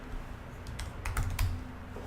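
Keys clatter on a computer keyboard as a search term is typed into a browser, a short close burst of clicks with a few louder strokes and no voices.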